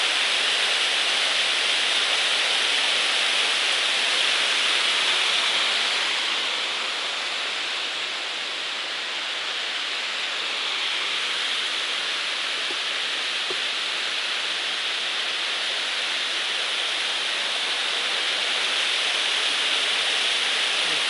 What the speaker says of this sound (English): Kind of a cool waterfall.